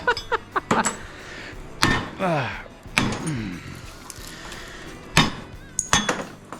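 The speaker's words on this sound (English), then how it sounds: "If you ain't running one of these hammers and you're breaking transformers" A heavy hammer strikes scrap transformers again and again, with sharp metallic clanks and ringing, scraping clatter at irregular intervals, loud and close, and no speech.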